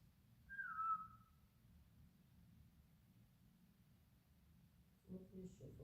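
A single short whistle in a quiet hall, faint and somewhat distant, rising briefly then fading over low background rumble, followed later by a soft shuffling noise.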